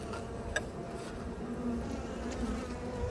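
Honey bees buzz steadily in an open beehive that is weaker than it should be, a continuous close insect drone with a brief sharper buzz flaring up early, no talk.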